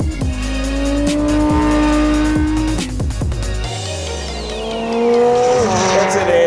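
A sports car driven hard on the Nürburgring track roars loudly and close, its engine note shifting between gears while the tires squeal and skid through corners, with a rising and falling whine as the car accelerates.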